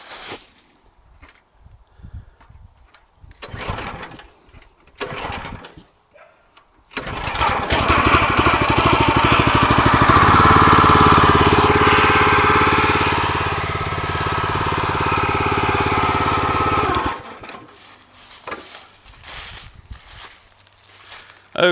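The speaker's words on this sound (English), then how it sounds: "We're going to pull the throttle up just a little bit." A small log splitter engine idling roughly, then the throttle is pulled up and it runs loud and steady for about ten seconds before dropping back. Close by, with handling noises around it.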